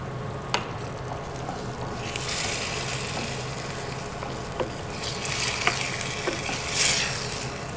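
Sauce seasoned with chili powder and turmeric sizzling and bubbling steadily in a pan, with occasional stirring scrapes and soft pops rising and falling over several seconds, close up and alone.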